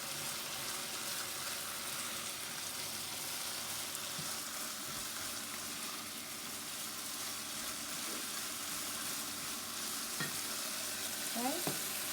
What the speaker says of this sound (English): My chicken's probably done, but I'm going to get it a little bit browner.